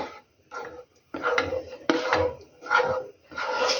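Short bursts of a metal spoon scraping and knocking against a frying pan of beans and mushrooms in sauce, several separate strokes with brief pauses between them.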